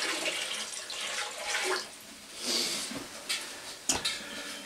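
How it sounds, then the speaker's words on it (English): Water from a pot heated on a stove is poured into a barrel at a deer camp in Upper Michigan, a hissing, splashing pour with several surges and a sharp slosh near the end, heard close with no talk. "Got this water on top of the stove, we'll dump that in there."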